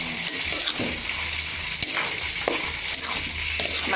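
Galangal, bay leaves and tomato stir-frying in a pan for a West Javanese oncom dish, a loud continuous sizzle with scattered clatters of a spatula against the pan, close up and without talking.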